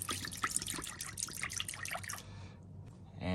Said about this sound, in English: I'm just gonna pour a little bit of this in the bottom of this pan